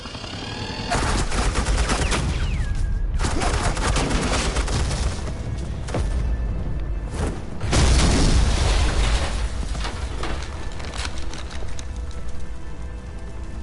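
Sustained suppressing gunfire from a Batman: The Enemy Within video game scene, dense loud bursts of automatic shots rattling continuously with brief pauses around three and seven seconds, no talking.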